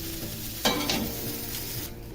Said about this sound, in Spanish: Porque se terminan de cocinar en la salsa de cerveza.